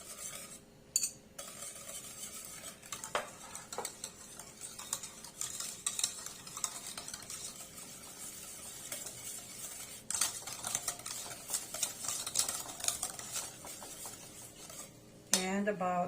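Eggs being beaten vigorously into homemade brownie batter, a steady rapid scraping of a utensil against a bowl with occasional clinks, close and continuous.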